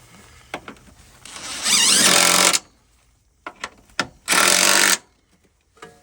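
Bolts on the rear shocks of a 2009–2017 Chevy Traverse are driven tight in two loud, close bursts of buzzing power-tool rattle, separated by scattered metallic clicks and knocks.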